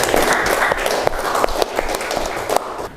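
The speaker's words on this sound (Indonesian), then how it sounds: "Semuanya beri tepuk tangan." Applause from a seated student audience in an Indonesian classroom or hall, a dense steady patter of many hands clapping with a few louder individual claps standing out, continuing without a break.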